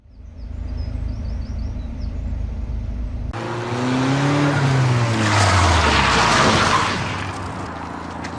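A Vauxhall Astra H VXR performs a handbrake turn, its engine droning before the tyres break into a loud, wavering skid and squeal lasting several seconds, then fading back to engine noise.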